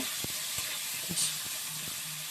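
Potatoes fry in a pan with a gentle, even sizzle and hiss, interrupted by a few soft taps and scrapes of stirring, quiet and close with no talking.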